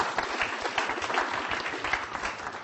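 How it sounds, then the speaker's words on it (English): A hypnosis demonstration audience applauds a volunteer coming up on stage, with dense, steady clapping from a full room that holds at an even level throughout. "Give it a nice round of applause."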